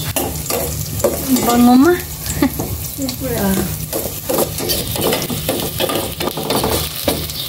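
Rice and garlic stir-frying in a pan, a steady sizzle with scraping stirs and clinks of utensil on metal, while a voice talks briefly over the cooking.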